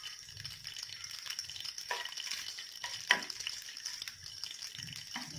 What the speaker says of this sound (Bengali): ফোড়নের জন্য সব শুকনো উপকরণ দিয়ে দিলাম।